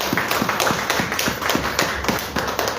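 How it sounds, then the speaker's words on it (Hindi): A church congregation gives steady, rhythmic rounds of clapping for Jesus at a Hindi and Kannada sermon, loud and close, with the claps evenly spaced throughout. "इस बातों के लिए ताली होना चाहिए यीशु के लिए"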